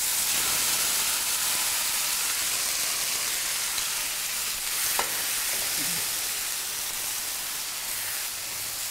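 A pointed gourd filling fries in a pan with a steady, dense sizzle and hiss that continues throughout, with a few faint stirring scrapes near the end.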